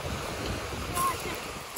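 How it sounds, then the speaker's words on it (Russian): Steady roar of surf washing onto a beach at Çıralı, Turkey, mixed with gusty wind buffeting the microphone, with a brief swell of louder wash midway. "Такие волны, я не хочу туда идти."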